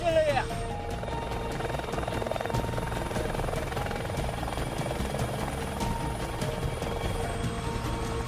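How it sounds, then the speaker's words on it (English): A helicopter flies with a steady, loud rotor and engine drone that fills the whole stretch, with a brief sharper sound at the start. "I didn't know you could fly an helicopter."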